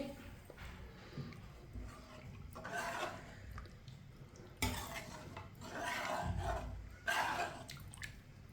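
Sweet vermicelli and milk get stirred in a pan, giving soft intermittent scraping and swishing sounds with a few louder strokes against the metal, fairly quiet and without talk.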